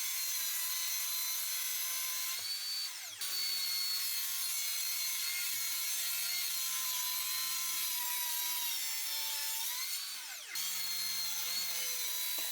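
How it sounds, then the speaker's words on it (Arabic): A power saw cuts a shelf from an 18 mm MDF board, a loud steady whine close by that runs almost without pause, changing pitch briefly twice as the blade bites and shifts. "ابتديت اقطع الرف من لوح MDF 18 مللي"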